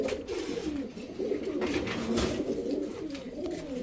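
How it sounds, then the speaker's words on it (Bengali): Pigeons coo continuously in low, rolling murmurs, several birds overlapping close by with no talking, at a pigeon sale of high-flyer and racing pigeons. "এই যে দেখেন আরেকটা মাদি কবুতর"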